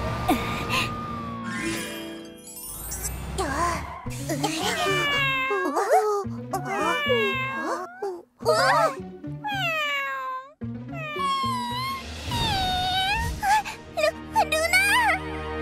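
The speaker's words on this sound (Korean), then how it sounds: "며칠 전에 태어난 아기 고양이야" Newborn kitten in a children's animated animal-rescue story, giving repeated high, wavering meows and cries, fairly loud and close, with brief pauses between calls and some voices alongside.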